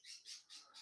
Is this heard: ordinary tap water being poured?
no